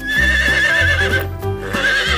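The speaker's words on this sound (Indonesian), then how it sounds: "Ini ada kuda, teman-teman." A brown horse neighs in a long, loud, wavering whinny that rises and falls, with a second shorter whinny near the end, close and clear with no talk over it.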